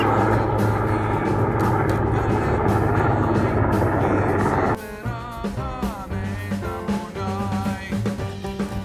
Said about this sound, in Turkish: Askeri helikopter.